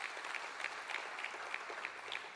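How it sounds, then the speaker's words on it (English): An audience claps steadily at a mayoral matric excellence awards ceremony, a continuous patter of many hands heard from a slight distance, fairly soft and without speech. "Can you give them a big round of applause?"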